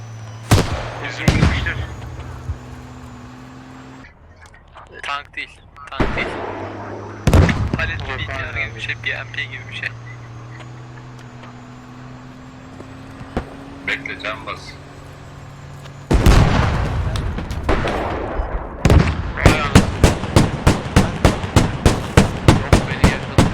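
Gunfire and explosions from the Squad military shooter game, with scattered blasts and shots early on, then a dense stretch of rapid, evenly spaced gunfire near the end, while players talk over the action.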